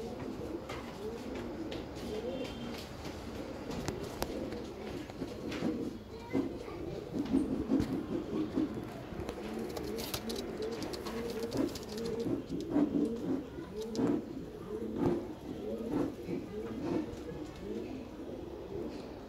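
Soft, rolling coos from several Madrasi pigeons repeat continuously at moderate volume, with light rustling and faint background noise.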